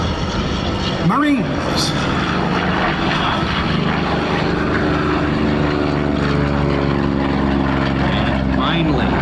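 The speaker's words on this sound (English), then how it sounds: "Here comes the Corsair, jumps off the ground." A Corsair warbird propeller plane takes off at an air show at MCAS Miramar. The engine drones steadily and loud throughout, and someone talks over it.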